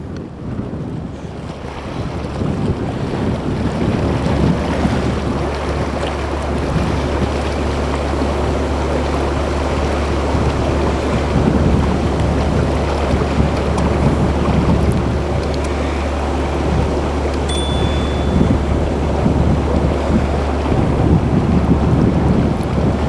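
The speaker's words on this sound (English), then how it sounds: "Another very windy day." Strong wind roars continuously around a canal narrowboat cruising near Stanthorn Lock, a steady broadband rush with gusty surges and a low rumble throughout, with no talk.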